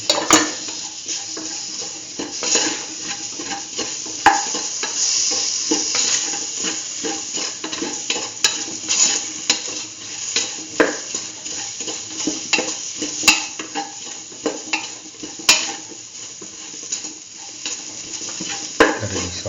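Tomato pieces, kidney beans and chayote saute together in a pan, a continuous close sizzle broken by frequent utensil scrapes and clinks against the pot as the stew is stirred, with no voices.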